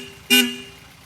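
A 1961 Sunbeam Alpine II sounds its horn in one short, loud, bright blast that fades quickly, with no voices during it.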